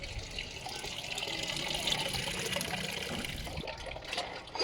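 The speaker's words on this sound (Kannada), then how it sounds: "ಪಾತ್ರೆ ತೊಳೆಯೋಣ ಬನ್ನಿ." Tap water runs steadily while dishes are washed, a constant splashing rush with occasional clinks and a sharper knock near the end.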